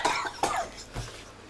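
Three separate coughs from a man in the Malay comedy film Pendekar Bujang Lapok 2, spaced about half a second apart, fairly close and moderately loud, the last one lower and heavier.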